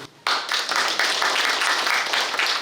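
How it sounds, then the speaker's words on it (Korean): An audience at a town hall meeting with citizens gives the committee chairman a sudden burst of steady, moderately loud clapping that keeps going without a break. "위원장님께 큰 박수를 보내드리고 싶습니다"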